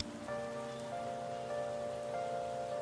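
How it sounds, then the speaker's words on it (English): Steady rain falling in the video game Persona 5: The Phantom X, a soft continuous patter over quiet sustained background music tones, with no voices. "It is raining."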